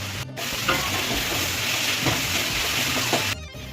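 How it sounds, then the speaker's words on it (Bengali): Onions with salt, tomato and chopped green chillies frying in a pan for mutton kosha, a loud continuous sizzle with rhythmic spatula stirring throughout, no talking. "এবার পেঁয়াজটা লাল করে ভেজে নেব"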